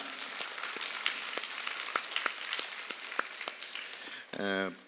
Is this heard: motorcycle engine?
no